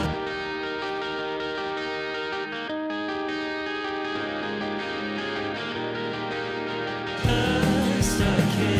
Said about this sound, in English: that electric guitar track has a little bit more gain and distortion to it